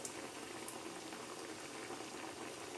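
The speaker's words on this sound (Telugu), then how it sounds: "ఇప్పుడు ఆయిల్ వేసేసుకుని ఫ్రై చేసుకోవాలి." A veg burger patty sizzles in hot oil in a pan, giving a steady, dense crackling hiss that is close and even throughout, with no talking.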